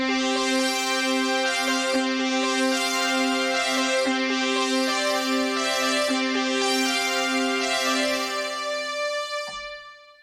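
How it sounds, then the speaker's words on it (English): Sustained brass patch from an iOS synth app: rich, bright chords swell and shift steadily for about nine seconds, then cut off sharply, heard alone with no talk. "I just love all these classic sounds like this brass sound."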